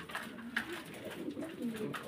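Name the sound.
fancy pigeons cooing on a farm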